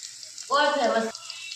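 Onions fry over a low gas flame with a soft, steady hiss of sizzling throughout, while a voice briefly cuts in partway through.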